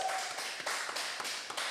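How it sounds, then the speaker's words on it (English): Studio audience clapping to welcome a podcast guest, a dense steady patter of many hands held at an even level throughout, with no voices over it. "y'all clap it up for Ghost Malone"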